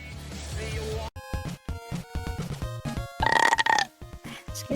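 A female VTuber lets out a burp during a stream, the belch sounding loud and close over background game music with repeated tones.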